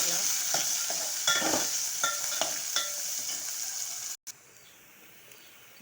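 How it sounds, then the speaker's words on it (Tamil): Onions sauté in a pan while being stirred with a spoon, giving a continuous bright sizzle broken by scraping stir strokes, ending with a sharp cut to a quieter hiss. "வெங்காயம் நல்லா வதங்கிடுச்சு."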